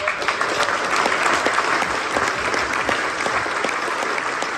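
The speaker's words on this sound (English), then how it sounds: "can I just ask you all to give Athol a big round of applause?" A festival crowd at a Hawaiian Shirt night awards ceremony gives a big round of applause for a retiring committee member, dense, loud clapping sustained without pause.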